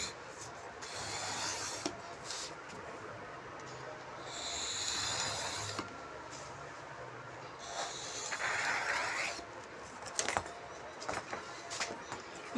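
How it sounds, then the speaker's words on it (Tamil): Cardboard for a saree box is cut by hand with repeated rough rasping and scraping strokes, close and moderately loud, broken by short pauses and a few sharp clicks near the end. "இப்போ இந்த இதை நான் கட் பண்ணி எடுத்துடுறேன்."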